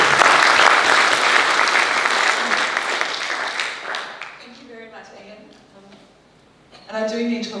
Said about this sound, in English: Can you give Claire a huge round of applause and welcome her to Warrnambool?